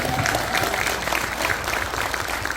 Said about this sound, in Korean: 박수 한번 치고 좋겠습니다.